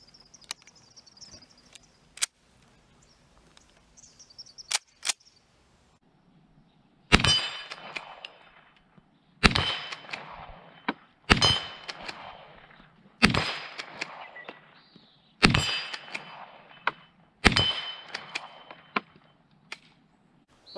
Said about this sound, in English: so we're going to be shooting steel on this round.